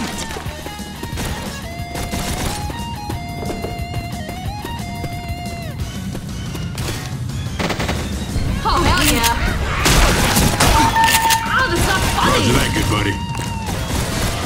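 Bursts of gunfire and impacts crash through a Left 4 Dead 2 match, loud and dense, mixed with game music tones, effects and overlapping voices of players talking.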